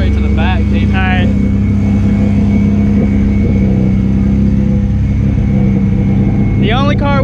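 A Datsun idles and revs at a small car meet, its open exhaust rumbling loud and close throughout, with people talking nearby and a short whistle-like chirp near the end.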